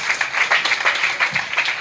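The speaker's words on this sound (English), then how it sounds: "please one big applause" A short burst of crowd applause, many hands clapping quickly and fairly loudly together.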